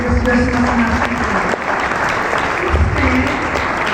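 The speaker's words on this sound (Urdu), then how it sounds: "ایک دفعہ زوردار تالیاں بجائیے" Loud, sustained applause from a church congregation during a sermon, dense and steady for the whole stretch, with a voice faintly underneath.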